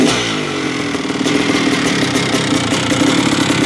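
A 2024 Kawasaki KX500 two-stroke motorcycle engine runs steadily and loud close by, a continuous buzzing drone with rough mechanical clatter and slight rises in revs throughout.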